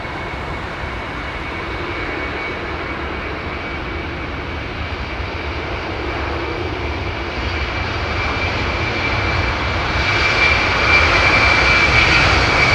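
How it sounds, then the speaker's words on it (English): Airliner taking off from London Heathrow runway 27 right, an older, loud type: a steady, broad engine roar that builds toward the end, with a high whine running through it and no voices. "Now this could be a great departure coming up now. Listen to this, old school."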